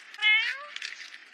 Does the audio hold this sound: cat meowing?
yes